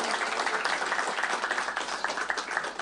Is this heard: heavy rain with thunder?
no